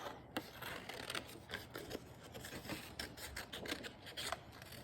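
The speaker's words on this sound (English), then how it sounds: "I'm just gonna cut mine freehand today. I've already got some started. I'm just gonna cut a couple more." Scissors snipping leaf shapes freehand out of paper for a fall-themed family tree craft, a quiet, steady run of small crisp cuts and rustles close by, with no one talking.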